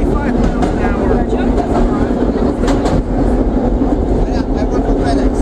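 New York City subway R1/R9 cars running on the line, a loud, steady rumble and roar of wheels and motors with faint clickety-clack, filling the whole stretch close by.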